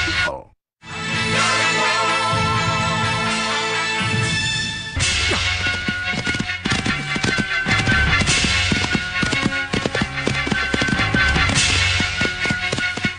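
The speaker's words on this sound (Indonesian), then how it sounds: "Itu kuda mereka." Horses gallop in an Indonesian period drama series, the hoofbeats coming as a rapid run of sharp thuds after a noisy opening stretch and growing busier and louder toward the end.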